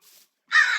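A crow caws once in the Minecraft Create modpack game, a single loud harsh call after a faint brief sound and a moment of silence.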